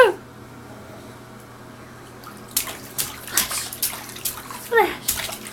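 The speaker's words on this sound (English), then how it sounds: "You're making such a splash." A child splashes in a bathtub full of suds, giving a burst of splashy water sounds and irregular sloshes after a quiet start, with an adult's cheerful voice nearby.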